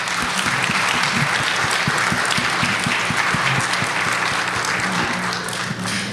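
An audience applauds at a school winter concert, a loud, even wash of clapping that continues for several seconds with only faint voices underneath.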